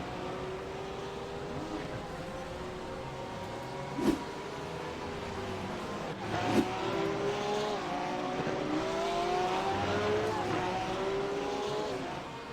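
GT3 race cars lap the Zolder circuit, several engines rising and falling in pitch as they pass at a distance, with a couple of sharp clunks and a continuous mechanical drone.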